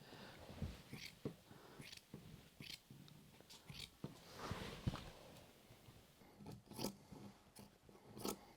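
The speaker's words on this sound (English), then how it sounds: "I love the noise of the scissors when it cuts." Sharp scissors snip repeatedly through thick reindeer skin, quiet crisp cuts at an uneven rhythm, close by with faint rustling between.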